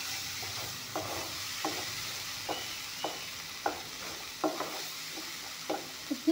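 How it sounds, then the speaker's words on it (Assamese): Spice paste of mustard, ginger, garlic and chili stirred as it fries in a pan: a constant sizzling hiss under regular scraping strokes roughly every half second, close and clear. "এইখিনি অলপমান ভালকৈ ভাজি ল'ম ধুনীয়াকৈ।"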